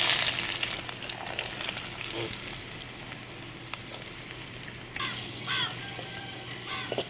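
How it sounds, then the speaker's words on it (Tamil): Onions fry in hot coconut oil for a village-style egg podimas, a continuous close crackling sizzle with occasional stirring clinks and a brief louder burst of spatter near the end. "பாருங்க வெங்காயத்தை போட்டுட்டு நல்லா வதக்கிக்கோங்க"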